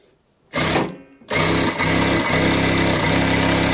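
A DAISEN DS Z1 industrial sewing machine stitches fabric with a loud, steady mechanical whir. It starts with a short burst, pauses briefly, then runs continuously to the end with no talking.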